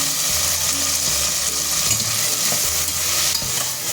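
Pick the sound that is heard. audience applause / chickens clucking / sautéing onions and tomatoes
sautéing onions and tomatoes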